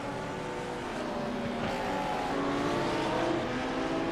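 GT3 race cars, including a Lamborghini, roaring around a bumpy turn at Sebring, a steady blended engine drone of several cars with shifting pitches, continuous and fairly loud with no talk.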